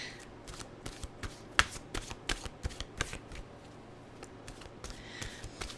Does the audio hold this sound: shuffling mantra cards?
yes